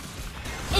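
A turret being destroyed in a video game gives a brief crunching smash over a low background rumble, swelling louder near the end.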